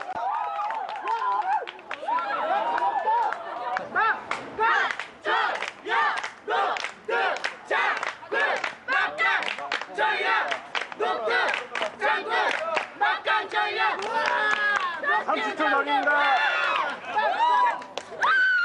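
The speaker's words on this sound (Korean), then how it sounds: "관중과 선수가 혼연일체가 되어 한데 어우러진 난장을 만들고" Players and spectators at a Korean taekkyeon village match erupt in loud, continuous shouting and cheering, a dense crowd roar with sharp rhythmic battle cries and calls running throughout.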